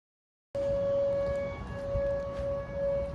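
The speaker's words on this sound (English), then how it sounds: "That is tornado sirens right now happening." Tornado sirens wail during a severe storm, starting suddenly after a short silence and holding a steady, sustained tone over rough wind-like background noise.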